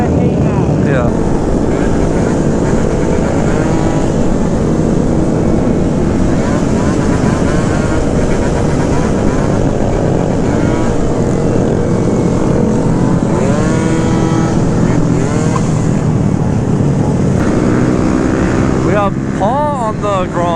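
Stunt scooter and Honda Grom engines rev loudly and continuously at close range, a dense buzzing drone with rising and falling throttle blips, voices talking and shouting over them.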